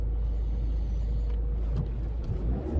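Idling buses sit in traffic, a steady heavy diesel rumble holding close and loud, with a few faint shifts and rattles over the drone.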